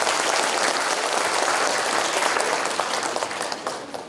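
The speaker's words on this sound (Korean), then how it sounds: "박수 부탁드리겠습니다." Applause from the audience at a book launch event, dense steady clapping that fills the whole stretch and slowly fades toward the end, with no talk over it.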